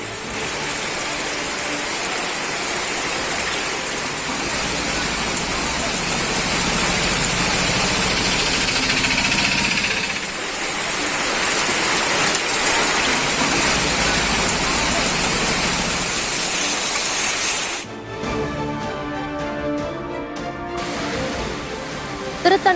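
Heavy rainwater pours off the top of Yanai Malai hill at Othakadai as sudden waterfalls, making a loud, steady rushing roar that holds for about twenty seconds before shifting to a thinner, choppier sound near the end.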